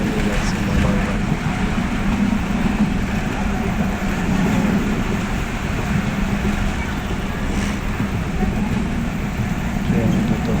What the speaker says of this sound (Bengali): ট্রেন দ্রুত যাচ্ছে।